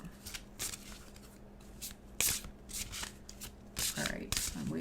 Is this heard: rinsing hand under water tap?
no